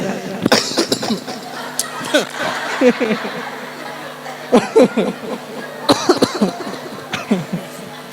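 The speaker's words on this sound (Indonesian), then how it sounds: "Terbatuk-batuk saya." Repeated bursts of coughing in clusters, fairly close, with short pauses between fits and a faint low hum underneath.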